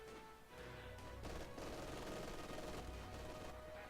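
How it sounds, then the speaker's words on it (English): Machine guns firing in a Company of Heroes 2 World War II match, a steady, fairly loud rattle of rapid gunfire continuing throughout amid battle noise. "Both the MGs are now up and firing in that area."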